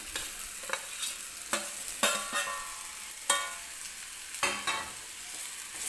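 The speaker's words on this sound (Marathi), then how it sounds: "आणि आता टाकायचा आहे आपण जो बटाटा घेतलेला आहे कट करून तो." Cut potatoes go into a hot pan for a Marathi batata bhaji and get stirred, bringing a constant sizzle with repeated sharp scraping strokes of the spoon against the pan, close and clear, no voices.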